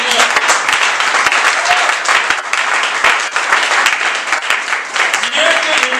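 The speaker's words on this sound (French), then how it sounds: "Si quelqu'un est content, il peut applaudir fort pour le Seigneur." A church congregation applauds loudly and steadily throughout, dense clapping filling the space with a few voices mixed in.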